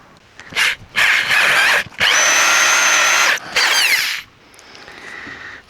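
A power drill bores halfway into a piece of wood for a DIY fishing rod rack, sounding in several loud, close bursts of whining drilling separated by short pauses, with a dog barking faintly at moments.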